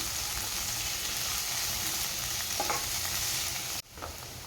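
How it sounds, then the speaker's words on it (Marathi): Spring onion greens sautéing in a pan for egg fried rice give a steady, close broadband sizzle with a soft stirring scrape near the end, then a brief dip before the frying resumes. "घालायचे कांद्याची पात आणि ते पण परतून घ्यायचं आहे"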